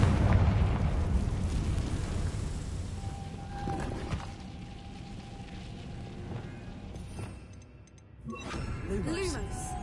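A Confringo blasting spell in Hogwarts Legacy bursting into a loud, rumbling explosion that decays over several seconds, followed by quieter crackling debris and a brief magical shimmer, with a voice speaking.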